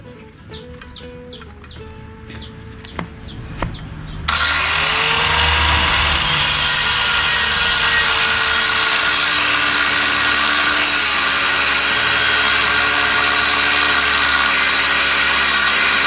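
Saw cutting through wood while building a hut outdoors, with a few sharp knocks and clucking chickens first, then loud continuous sawing to the end.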